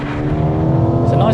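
A Mercedes-AMG A35 hot hatch of around 300 horsepower holds a steady, humming engine and exhaust drone up close, with people talking over it.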